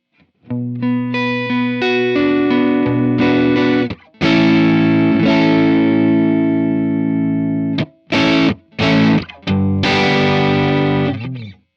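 Electric guitar chords driven through a Strymon Iridium amp modeler ring out, sustained and harmonically rich, with a short break, then a few choppy stabs before a final held chord.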